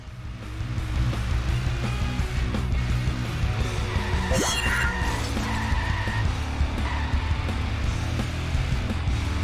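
Race cars in The Simpsons Hit and Run screech and skid through the last lap, a loud continuous engine roar with tire squeal rising midway, steady and close throughout.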